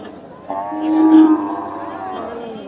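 A cow at a Tangail village cattle market gives one long, loud, nearby moo lasting over a second, rising then trailing off over a low murmur of market background.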